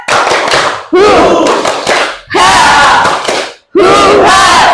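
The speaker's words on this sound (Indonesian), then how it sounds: "Kita mulai yuk. Tepuk semangat." A class shouts the tepuk semangat clapping chant in loud unison bursts, four sharp rounds of clapping and chanting separated by brief pauses, close and energetic.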